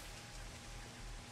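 Steady rain falls in the video game Diaries of a Spaceport Janitor, a dense, even hiss of drops with no voices.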